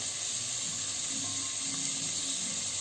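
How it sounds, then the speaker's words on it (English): Chopped onions frying in a pan, a steady soft sizzle with constant hiss and no talking. "So as the onions are getting fried, I have added 2 chopped onions"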